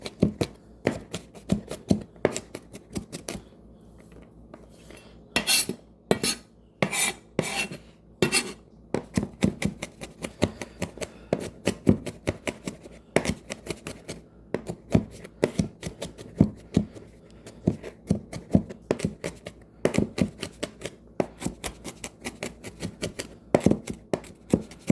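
A knife chops rapidly and finely on a cutting board, a quick run of sharp, close taps with short pauses between bursts.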